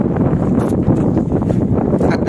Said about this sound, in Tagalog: Napakalakas ang hangin dito ngayon.